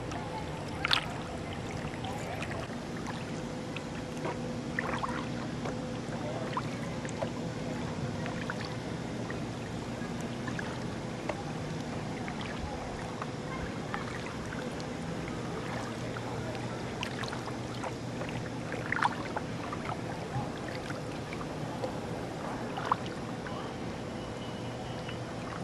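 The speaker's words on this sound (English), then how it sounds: "I'm going to paddle around the backwaters here on the Tennessee River" A kayak paddled through the backwaters of Roseberry Creek off the Tennessee River, with faint, soft water splashes and drips from the strokes over a quiet outdoor hush.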